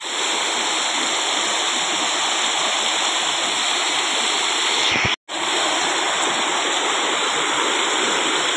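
A river flows strongly where friends have gone swimming on Nag Panchami. A loud, continuous, close rush of water fills the whole stretch, broken by a brief dropout, with no talking.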